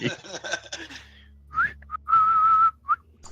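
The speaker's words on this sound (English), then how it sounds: "that whistling noise" Someone talks briefly, then a person whistles in short rising chirps followed by one long steady whistled note and a final short chirp, close by.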